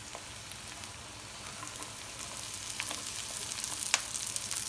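Chopped capsicum hits transparent onions in a hot frying pan, setting off a steady, close sizzle with fine crackles and pops that grow slightly busier toward the end.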